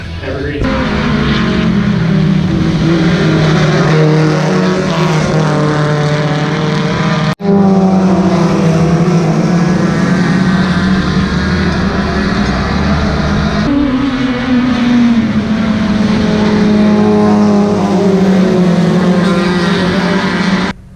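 Hornet-class race cars roar continuously around a rain-soaked oval track, with engine pitch rising and falling as cars pass.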